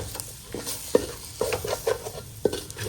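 Beef curry with masala and coriander powder is stirred in an oiled frying pan on the stove, with a low sizzle running underneath. Irregular scraping strokes and soft knocks of the spoon come several times against the pan, close by.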